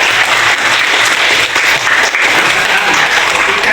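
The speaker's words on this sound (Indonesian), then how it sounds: "Boleh kasih tepuk tangan untuk Melani." Classroom applause for a student in an Islamic religious education lesson, a loud, dense wash of many hands clapping together, steady and close for a few seconds.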